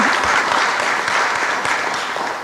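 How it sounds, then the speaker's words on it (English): Loud, dense applause from an audience at a formal meeting in Taiwan with the visiting US House Speaker and the Taiwanese president, a continuous roar of clapping that continues steadily throughout. "That's an applause line."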